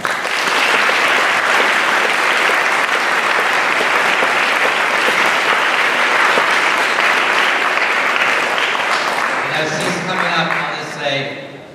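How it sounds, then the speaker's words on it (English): An alumni event audience gives a long, loud, dense ovation welcoming speaker Linda Johnson Rice, the clapping steady before dying away as a voice begins speaking at the end. "give a big round of applause for her being with us today"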